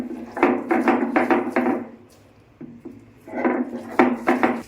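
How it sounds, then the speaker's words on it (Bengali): Fried onion and other ingredients are ground together on a grinding stone into a coarse paste, heard as close, repeated rubbing and grating strokes in two bursts with a short pause between. "তো এটা পেঁয়াজটাও দিয়ে দিলাম, ভেজে রাখা পেঁয়াজটা, ব্যাস এগুলো সব একসাথে বেটে নিতে হবে।"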